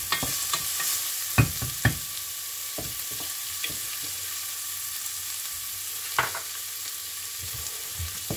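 Ginger fries in a pan over lowered heat for a red lentil dhal, giving a steady soft sizzle with scattered sharp taps and scrapes of a utensil, close by and with no speech.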